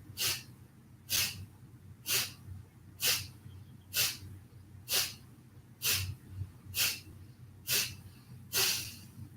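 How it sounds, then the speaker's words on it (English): Kapalabhati yogic breathing during a core-focused yoga session: ten sharp, forceful nasal exhalations in a steady rhythm about one per second, close and clear, with quieter inhales between them. "So we'll do the Kapalabhati breathing like that."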